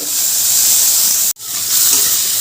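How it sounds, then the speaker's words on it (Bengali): Shrimp coated in salt and turmeric hit very hot oil in a pan, producing a loud, close, hissing sizzle that cuts out for an instant midway and then surges back just as strongly. "এবার আমি নুন হলুদ মেখে রাখা চিংড়ি মাছগুলো ভেজে নেব"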